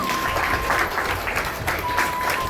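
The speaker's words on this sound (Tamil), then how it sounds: "அதனால் அவங்களுக்கும் உங்களுடைய கரகோஷம் கண்டிப்பாக தேவை." A crowd claps loudly and continuously at a Bharatanatyam dance debut, a dense wash of applause with a faint steady tone sounding in the background.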